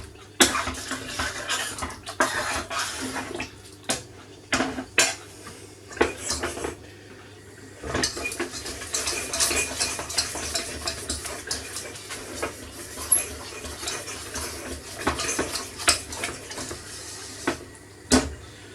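A flour roux being stirred in a pot for white sauce, with scraping and clinking of utensil against the pan over a steady sizzling hiss, continuous with irregular louder scrapes, close by and without speech.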